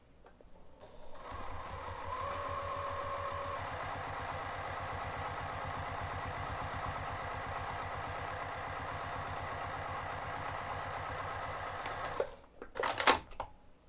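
A sewing machine top-stitches a cotton strap in a fast, steady stitching rhythm for about ten seconds, then stops with a few clicks and clunks.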